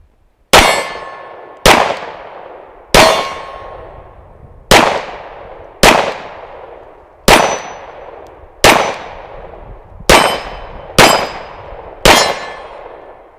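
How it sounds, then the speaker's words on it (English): Nine-millimeter 1911 pistol rounds from a Tisas and a Springfield strike steel targets in a series of about ten sharp, ringing clangs, each decaying quickly, fired at a steady, slightly quickening pace with no talk. "let's send a few rounds down range right here and see what happens"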